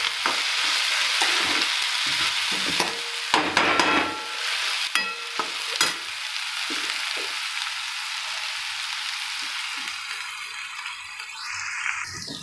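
About two large chopped onions frying in a pan, a loud constant sizzle with repeated spatula scrapes and knocks in the first half before the hiss settles into a steady crackle.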